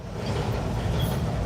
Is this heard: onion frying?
no